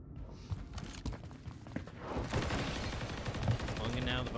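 Gunfire in a competitive first-person shooter match, with scattered shots and rapid bursts rising into denser firing over a few seconds, heard beneath a commentator's voice.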